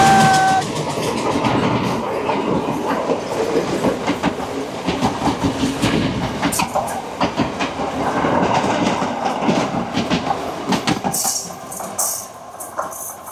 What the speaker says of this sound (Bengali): এখানে একটা ক্রসিং হবে, যেহেতু এখানে সিঙ্গেল ট্র্যাক, সেহেতু ক্রসিংয়ের জন্য ট্রেন দাঁড়াবে